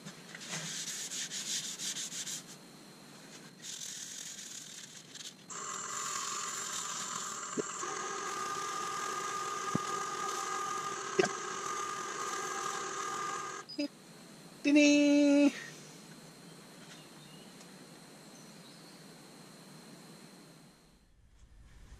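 An ebony bowl being sanded on a spinning wood lathe, a steady whirring hum overlaid with a close rasping rub of abrasive that stops and starts, ending with a brief sharp whine before the lathe winds down.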